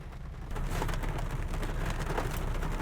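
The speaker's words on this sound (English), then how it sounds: "it's raining." Steady rain pattering densely on a surface close by, a continuous hiss with scattered drops, starting abruptly after a brief quieter moment.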